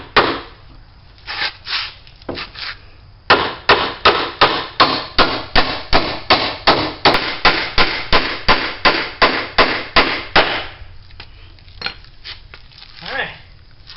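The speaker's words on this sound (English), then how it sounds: "I'm just going to go ahead and try to nail this as is." Nails being hammered into wooden basement shelf boards: a rapid, steady run of sharp, loud blows, with a few scattered taps before and after.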